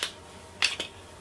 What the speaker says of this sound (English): the mags drop just as freely